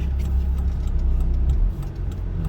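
Car turn signal indicator ticking in a regular rhythm inside a moving car, heard close over a loud, steady low engine and road rumble.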